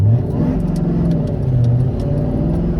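Supercharged Ford Crown Victoria with a five-speed manual accelerating hard in first gear, engine loud and close with a steadily rising rev throughout.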